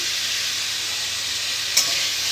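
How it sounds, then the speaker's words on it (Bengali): Potatoes fry in hot oil in a home kitchen, giving a steady close sizzle as they are stirred, with one brief sharp scrape of the utensil near the end. "আলুগুলো বেশ সুন্দর ভাজা ভাজা হয়ে এসছে"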